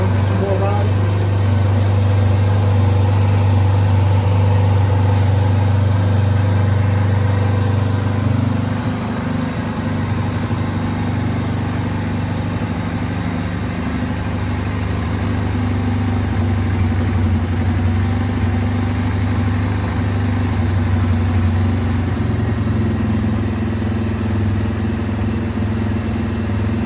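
A four-wheeler ATV engine idles close by with a steady low rumble, loud at first then settling a little quieter, while someone talks over it.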